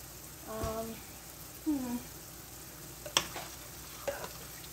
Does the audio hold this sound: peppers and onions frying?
yes